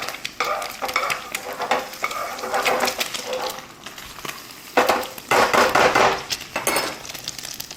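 Egg frying in butter in a pan, with a loud continuous sizzle and crackle plus spatula scraping and knocking, growing denser and louder in the second half.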